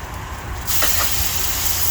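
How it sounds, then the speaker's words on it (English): Steaks hit a hot griddle on a camp cooker and burst into a loud, sudden sizzle that holds steady and close. "You want that sear on those steaks"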